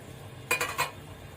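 Vegetables being mixed in a pan for masala rice, with two or three quick metallic scrapes of a spoon against the pan, brief and near, over faint background hiss.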